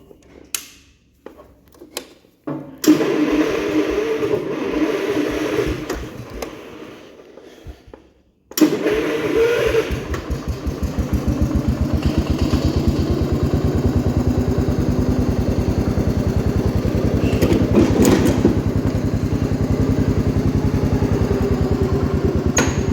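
A 1969 Gravely 432 mower engine cranks in short bursts, catches, cuts out, then restarts and settles into a loud, steady, close running drone that holds to the end.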